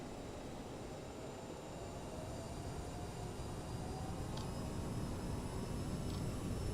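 An Aerosoft CRJ regional jet spools up to takeoff power in a flight simulator, a steady broadband engine roar with faint high whine that slowly swells louder over several seconds, with no talk.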